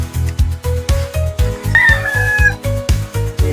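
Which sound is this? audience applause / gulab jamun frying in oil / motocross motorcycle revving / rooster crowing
rooster crowing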